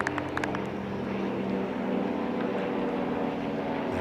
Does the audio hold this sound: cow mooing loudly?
no